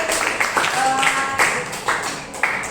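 A short burst of clapping from a small Indonesian physics class after a presentation, steady and fairly close, with a few sharper individual claps standing out.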